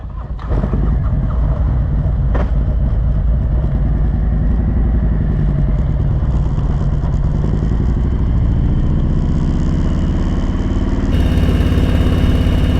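Motorcycles ride off on gravel toward the northernmost point of the U.S., with a loud, continuous engine drone that holds steady and then shifts to a higher, rougher roar as they pull away.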